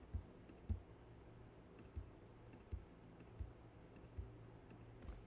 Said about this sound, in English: I'm going to hold down my Shift key and I'm going to click each file